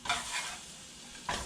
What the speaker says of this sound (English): flip them over, find it with my spatula, hold with my other hand